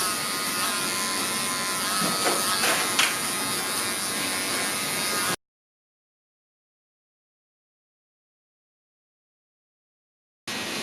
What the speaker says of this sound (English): Now switching over to my cordless magic clips with my number 1 guard to perfect the blend.